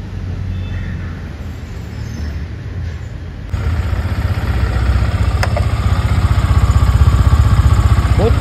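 A Yamaha R15 motorcycle engine idles steadily close by, a low continuous hum that grows slightly louder partway through and holds an even, smooth tone with no talking.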